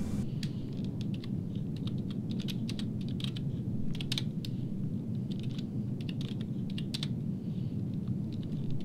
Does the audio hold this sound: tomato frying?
no